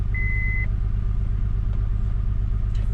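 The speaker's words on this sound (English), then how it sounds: "She does have an exhaust leak" A car engine idles steadily with an exhaust leak, giving a low, rhythmic puttering rumble close by, with a brief high beep near the start.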